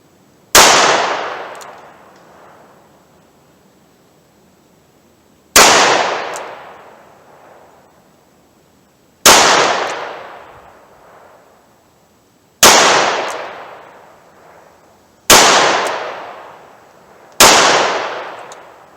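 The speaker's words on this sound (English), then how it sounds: "I'm going to fire from 7 yards, single action." Six loud, sharp gunshots from a Smith & Wesson Model 64 revolver firing .38 Special +P rounds single action at 7 yards, each crack followed by a decaying ring, spaced irregularly a few seconds apart with no talk.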